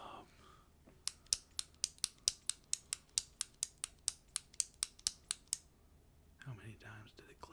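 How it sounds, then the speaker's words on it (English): A ballpoint pen clicks about sixteen times in a quick, evenly spaced run, close and crisp against near silence, followed by brief soft rustling. "How many times did the pen click?"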